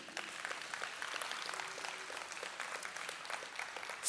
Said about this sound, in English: A round of applause for the DG.